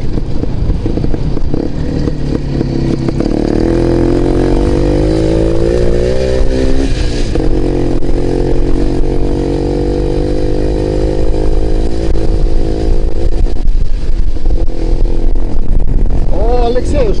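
An Izh Jupiter motorcycle engine revs loud and close, its pitch climbing and holding in strained bursts throughout, with a voice briefly heard over the roar.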